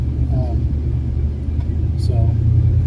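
Car driving on a wintery Minnesota morning, a steady low engine and road rumble from inside the cabin, close and continuous, with a couple of faint high squeaks over it.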